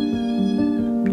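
A cat meows plaintively in one drawn-out, whining cry, close and fairly loud, with no one speaking.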